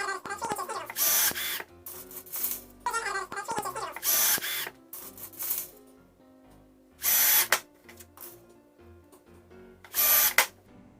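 Power drill driving 1/2 inch No. 5 flathead screws into Coroplast siding on the fold-down wall framing of a bicycle camper, several short loud whirring bursts separated by quiet pauses.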